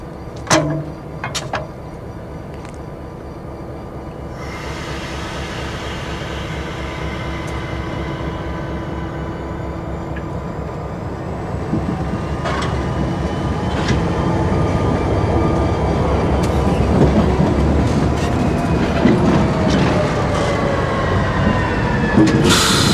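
A CSX freight train sits in a rail yard with the locomotive rumbling steadily, a loud continuous low drone with clanks and metallic squeals rising over time.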